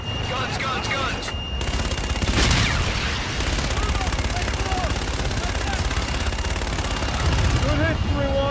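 Sustained heavy automatic cannon fire from an aircraft gun run in the Call of Duty: Infinite Warfare shooter, a dense rolling barrage with a loud burst near the start, with voices talking over it throughout.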